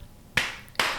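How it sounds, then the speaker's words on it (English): Two sharp hand claps ring out, spaced about half a second apart, close and crisp against a quiet background. "Clap between your words."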